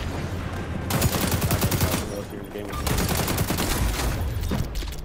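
Rapid bursts of gunfire in the online shooter XDefiant, dense overlapping shots in two long volleys with a brief lull between, loud and close throughout.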